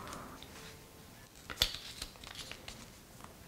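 A pair of scissors snips through kinesiology tape up close in a quiet room, with one sharp cut standing out amid a few softer crinkles and snips.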